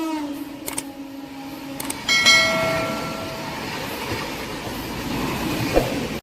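The Meenakshi Express rolls along on its Tirupati to Rameshwaram run, a steady rumbling clatter of the cars with brief tonal squeals and metallic clanks early on, no voices.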